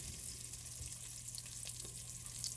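Mushrooms sizzle and crackle in oil in a hot skillet, a steady, close frying hiss that lasts throughout with no talking.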